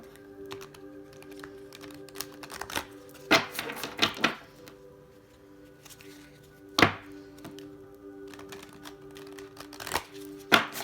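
A few short bursts of oracle cards (Moonology Oracle deck) being shuffled, soft riffling clusters separated by quiet pauses, close by and alone.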